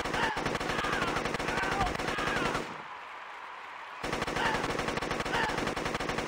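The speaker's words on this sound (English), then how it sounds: "as Aladdin has become the first person to wield a semi-automatic rifle during a race" Semi-automatic rifle gunfire in The Dictator: Wadiyan Games, fired in a race, rattles in loud, dense rapid bursts that break off for about a second and a half before resuming.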